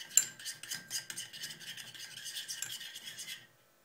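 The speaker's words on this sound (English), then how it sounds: "I'm gonna add 1/2 teaspoon of the dill powder and mix it all together" A utensil stirs tuna marinade with dill powder in a bowl, making close, rhythmic scraping and rubbing strokes that stop abruptly near the end.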